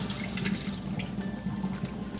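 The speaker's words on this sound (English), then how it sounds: "we're just gonna rinse the mung beans" Mung beans are rinsed under running tap water in a sink, a close, steady splashing wash with no talk.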